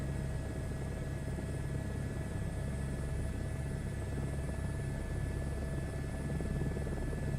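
Helicopter in a flight simulator game cruising over the UK, a steady droning rotor and engine rumble with a constant whine, holding at an even level throughout with no talking.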